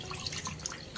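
Water is poured into a small bowl while making dhokla, a brief steady splashing trickle heard close up.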